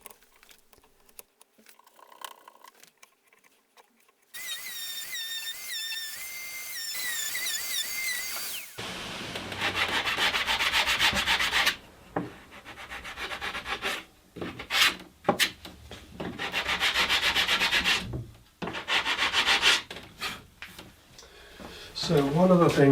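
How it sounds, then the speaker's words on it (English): Hand sanding of hardened 2-pack resin filler on a wooden console desk, a steady scratchy rasp in repeated strokes that stops and starts, with a short stretch of other audio early on. "sand it all smooth"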